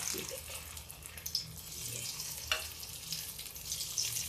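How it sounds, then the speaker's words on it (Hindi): Pakoras fry in hot oil with a faint, steady hiss and soft crackling, close by, with a few small pops. "अब ये पकौड़ियाँ बनाते हैं। ये देखिए, ये तेल गरम है।"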